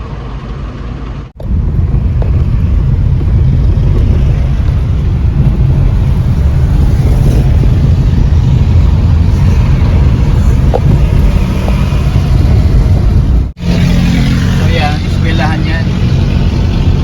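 Road traffic rumbles steadily along the coastal road of Davao City, with a continuous loud drone of passing vehicles broken by two brief cuts, and no talk heard.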